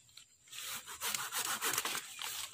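A rusty hand saw cuts through a tree branch during pruning, rasping back and forth in several quick, rhythmic strokes, close and fairly loud.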